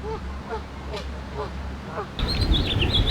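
Ducks on a city park lake give several short, nasal quacks spaced out over low background rumble, then a shift to a busier outdoor scene with higher chirping bird calls.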